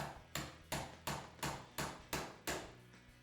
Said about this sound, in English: we're just going to use a punch and a little hammer, and we're just going to tap it up carefully